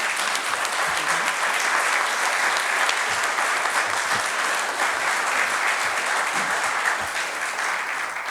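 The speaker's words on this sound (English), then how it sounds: "can we applaud Paul, please?" Sustained audience applause fills a church hall at an anniversary commemoration of the Upstairs Lounge fire, steady and fairly loud throughout, with no voices over it.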